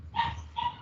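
Puppies yip and bark in the background of a home, two short bursts close together, moderately loud against quiet room noise.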